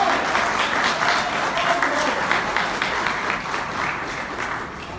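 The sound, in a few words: applause for Paulo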